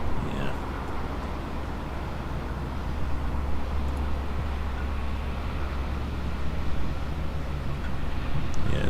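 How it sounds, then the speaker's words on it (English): A refrigerated reefer unit somewhere in a ferry car park at the Port of Southampton chugs away steadily as a low, constant rumble, distant and unchanging throughout. "there's some sort of reefer down there somewhere. That's what we can hear chugging away."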